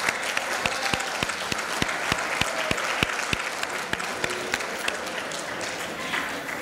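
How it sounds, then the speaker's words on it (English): Students at a high school scholastic awards night applaud their families: a steady wash of crowd clapping with sharp individual claps popping out, filling the hall at an even level throughout. "Students, give a huge round of applause to your families."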